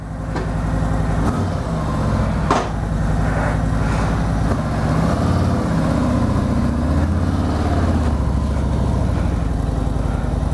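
A motorcycle engine idles in late November on a gravel-strewn road, a loud, steady low rumble with a regular throbbing pulse that runs throughout.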